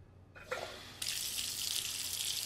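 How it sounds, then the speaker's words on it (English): Hot water from a sink tap rushes into a bucket, starting with a brief splutter and then settling into a steady, close, continuous stream. "He takes the bucket to the sink and turns on the hot water."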